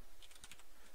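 Typing on a computer keyboard while entering a node name in Unreal Engine 4, a quick run of light, close key clicks across the whole second with no talking.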